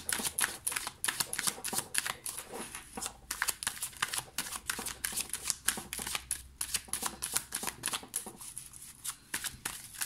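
Oracle cards being shuffled by hand, a rapid run of crisp riffling flicks and slaps, close and clear with no talk over it.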